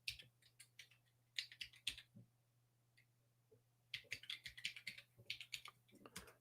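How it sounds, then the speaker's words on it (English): Slow, deliberate typing on a keyboard with home row mods, clusters of crisp key clicks separated by pauses, close and quiet over a faint steady hum. "Typing it very slowly and strategically on this keyboard that has home row mods."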